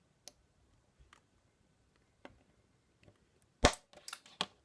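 A knife cuts through a plastic toy part, a custom double-bladed laser sword piece, on a cutting board, giving a few sparse, quiet clicks and then a short cluster of sharp, close snaps in an otherwise hushed room.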